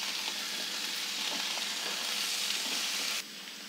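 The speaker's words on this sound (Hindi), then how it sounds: "गोभी और गाजर ये सारी हम मिक्स कर देते हैं" Cauliflower, carrots and peas sizzle and crackle in a hot pan as they are stirred together, a loud steady frying hiss that drops off abruptly near the end.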